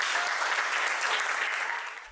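An audience applauds after a data analyst project presentation at a bootcamp demo day in Marseille, with dense, steady clapping from many hands that fades slightly at the end.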